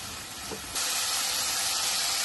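Green tomatoes frying in oil for a chutney, a steady, loud sizzling hiss that surges abruptly louder partway through and then holds constant, with no talking.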